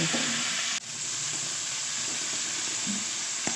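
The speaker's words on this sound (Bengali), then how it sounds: "মাছ আর মাংস দুটোই দিয়ে দেবো দিয়ে ভালো করে মিলে ভেজে নেব" Fish and meat pieces frying together in a pan for mixed fried rice, a loud continuous hiss of sizzling oil up close with a few light stirring scrapes and utensil taps.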